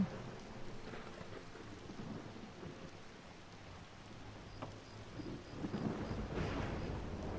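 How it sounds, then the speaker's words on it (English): In the video game Skyrim, a thunderstorm rolls on with steady rain hissing throughout and deep thunder rumbling at moderate volume, swelling near the end. "Wow, this is quite the storm."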